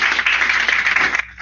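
Audience applause in a brief, dense burst of clapping at steady loudness, cutting off abruptly after just over a second.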